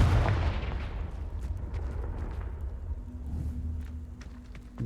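A Confringo fire spell cast in the Hogwarts Legacy video game bursts with a loud blast at the start, then a sustained rumbling crackle and a low hum that fade slowly.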